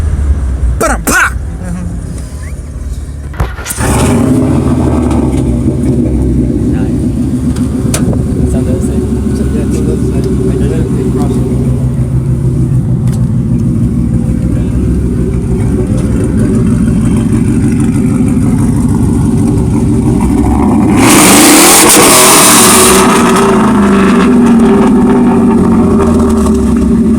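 A car engine in Mexican-style street racing revs hard, then drops through a downshift, loud and sustained with talk over much of it and a sharp surge near the end.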